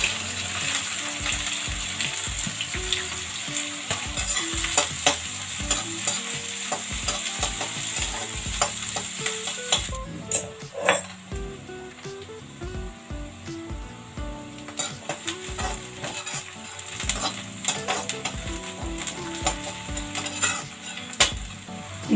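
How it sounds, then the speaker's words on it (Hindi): Cumin and chopped onion sizzle in hot oil in a kadhai, with a loud continuous hiss and frequent metallic stirring clinks and scrapes throughout, close up and without speech. "कढ़ाई में हमारा ऑयल गर्म हो गया है। अब हम इसमें ज़ीरा डालेंगे। ज़ीरा डालें, जब हमने अनियन चॉप किया था वो अनियन डालें।"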